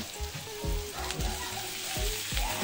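Tofu sizzling as it fries in a pan at home, a steady soft crackle with small pops and a scraping stir now and then, close and fairly quiet.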